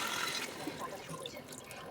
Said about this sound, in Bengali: তো এবারে জলটা দিয়ে দিলাম।